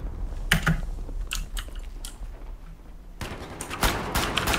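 Shooter game gunfire crackles in sharp, scattered bursts, a few isolated shots early on, then a denser rattle of rapid rounds toward the end, close and punchy with mouse and keyboard clicks in between.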